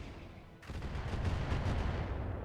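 A Goblin mech in RogueTech, the BattleTech game mod, opens fire on a Hussar: a sudden loud blast of weapons fire bursts in after a quiet moment, then rumbles on with repeated heavy pulses.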